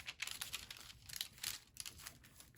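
Parchment paper crinkled and handled at close range during a craft project, producing irregular bursts of crackling and rustling that rise and fall over a couple of seconds.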